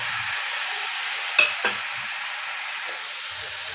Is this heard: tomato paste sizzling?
yes